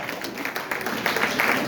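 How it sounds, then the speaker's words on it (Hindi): Applause from an audience welcoming a speaker onto the stage at an indoor program, a steady patter of many hands clapping throughout, moderately close and fairly even in loudness. "जोरदार तालियां।"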